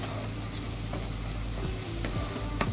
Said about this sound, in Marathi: 1 चमचा गरम मसाला आणि अर्धा चमचा आपला घरगुती मसाला। 1-2 मिनिट चांगलं परतवायचं आहे।